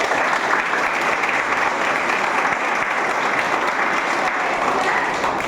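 Steady, dense applause from a ceremony audience at the fourth anniversary opening event of a rehabilitation centre, loud and continuous throughout with no break.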